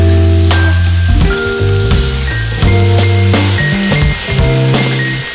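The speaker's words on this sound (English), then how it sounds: "The pan should be nice and hot and there should be a sizzle." Beef strips sizzle steadily in a hot pan, a constant crackling hiss partly covered by loud background music.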